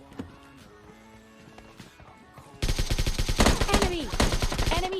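Rapid bursts of AKM automatic rifle fire in PUBG Lite erupt after a quieter stretch of game sounds, loud and sustained with dense, crackling repeated shots.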